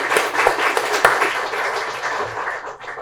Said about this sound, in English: Let's give them a big round of applause for all of them.